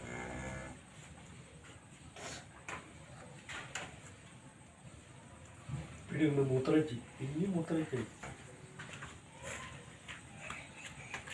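Cattle lowing at a farm, a couple of loud moos rising over rustling background noise and some speech, fairly close.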